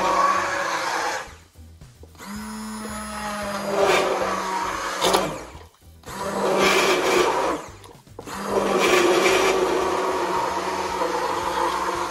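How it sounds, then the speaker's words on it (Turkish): Pumpkin soup being puréed in a blender: a loud, close motor whine in three long bursts separated by brief pauses, with the pitch shifting as the mixture churns. "Mikserden, robottan geçireceğim."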